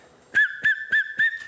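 A whistle sounds in four short, evenly spaced toots, each sharp and clear at a steady pitch, with no talk over it.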